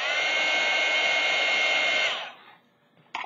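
A heat tool used to dry glue on handmade mixed media dangle dolls blows a loud, steady whooshing roar for about two seconds, then cuts off, leaving near silence before a brief click.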